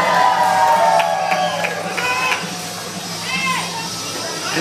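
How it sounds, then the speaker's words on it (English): A roller derby crowd cheers and whoops loudly at a game between Chemical City Derby Girls and Eastside Derby Girls. Shouts rise and fall over a steady crowd roar, mixed with talking voices. "bask in the applause of all those who love roller derby"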